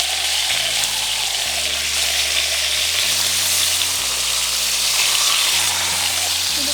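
Meat sizzling and frying loudly in a pot while browning for mole de olla, a continuous close hiss with a low electrical hum underneath.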